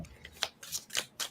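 Tarot cards being shuffled by hand, four or five quick crisp riffling bursts at a steady pace, fairly close and quiet, with no talking.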